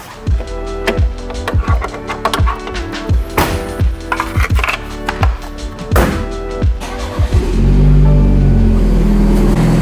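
A BMW 330i with a B48 engine and downpipe exhaust starts up, heard first as a series of sharp rhythmic clicks and knocks, then a loud, deep exhaust roar settling into a steady idle up close.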